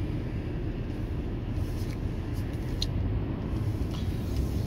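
Interior drone of a Ford Focus Zetec automatic being shifted manually while driving, a steady low engine and road rumble with no clear gear changes, and no talk heard.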